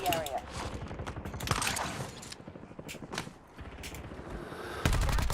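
Rapid bursts of gunfire in a Warzone match, near and loud, with short gaps between volleys, mixed with mechanical clatter and footsteps while a voice speaks over it.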